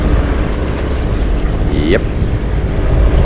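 The sailboat Excelsior ploughs through the sea in the Mozambique Channel, with a steady roar of wind and water rushing against the hull, and a brief word spoken over it.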